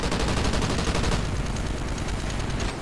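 Dense, continuous automatic gunfire from the video game Call of Duty: Ghosts, loud and close with overlapping rapid shots that form a steady crackling roar, with no voices over it.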